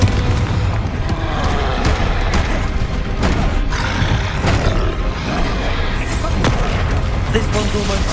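Repeated booming fire-spell blasts and impact thuds from combat in the Hogwarts Legacy video game, loud and dense, with a few sharper bursts toward the end over continuous game noise.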